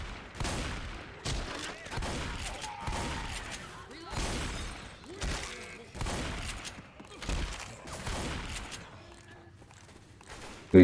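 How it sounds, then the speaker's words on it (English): Gunfire from incendiary ammunition in Left 4 Dead, a rapid series of sharp, loud shots in uneven bursts with short gaps between, continuing for several seconds before trailing off. "These here are fire bullets."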